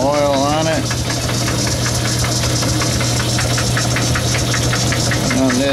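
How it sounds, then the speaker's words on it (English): A Logan 10-inch metal lathe with a broken gear tooth turns with a steady loud mechanical hum and a regular repeating clack throughout, while a voice talks briefly at the start and end. "you hear that clack, clack, clack, clack. That's a broken tooth in my gears."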